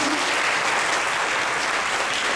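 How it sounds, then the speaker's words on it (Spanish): Dense, steady clapping from a conference audience after a Spanish-language talk on money laundering law in France, an even wash of applause throughout. "Pues démosle un fuerte aplauso a"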